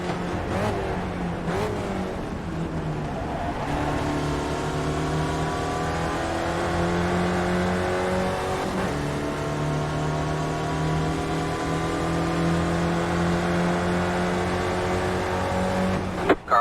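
Spec Racer Ford race car engines drone steadily in the iRacing sim. There is a loud, continuous, buzzy engine note with shifting pitch, a few sharp clicks at the start and a brief knock near the end, with no talking.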